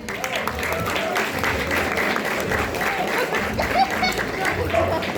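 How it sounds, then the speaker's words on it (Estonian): Audience applause at a corgi dog trick competition in Tallinn, a dense wash of clapping for the next contestant, with voices and crowd chatter mixed in throughout. "Toetame aplausiga."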